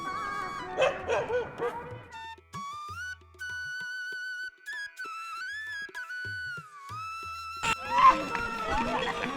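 Dogs barking and yipping on a morning walk, several sharp bursts at the start and again near the end, with high whining tones between them.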